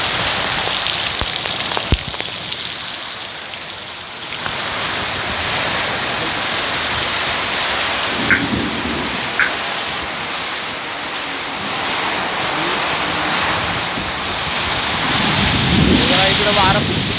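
Heavy monsoon rain and strong wind in Konkan make a dense, constant roar of rainfall with gusting wind buffeting the microphone, loud and unbroken throughout.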